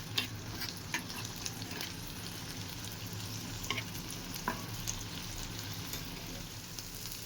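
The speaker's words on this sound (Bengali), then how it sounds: "চিংড়ি মাছটা ভালো করে লাল লাল করে ভেজে নিতে হবে।" Prawns frying in a pan give a steady, close sizzle with occasional stirring scrapes and small pops, continuing without any talk.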